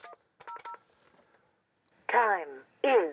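Two short bursts of DTMF dialing tones on a Panasonic KX-TA824 analog PBX, crisp and close, followed later by a synthetic voice prompt in separate loud phrases.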